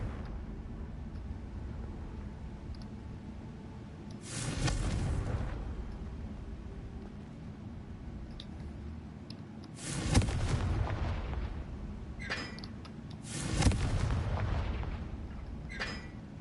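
Confringo fire spell explosions in the Hogwarts Legacy video game, three separate loud booms spaced several seconds apart, each a sharp burst with a rumbling tail over a quieter steady background.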